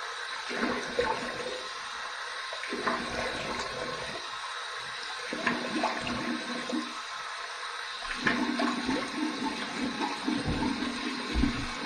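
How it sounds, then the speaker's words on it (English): Warm water runs steadily from a tap into a sink for a rinse after a shave with a razor, with splashing and gurgling as hands cup and dip into the flow, and no talk. "Here's my warm water rinse."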